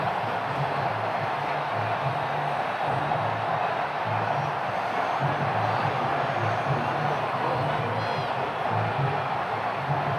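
A Buffalo Bills stadium crowd in Madden 22 roars steadily throughout as the team takes on the Tampa Bay Buccaneers, a dense, continuous wash of distant cheering with a low hum underneath.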